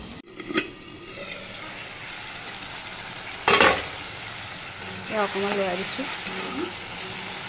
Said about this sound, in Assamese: এয়া আমাৰ মায়ে লৰাই আছে